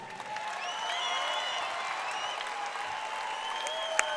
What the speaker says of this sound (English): How about a round of applause for an awesome fight?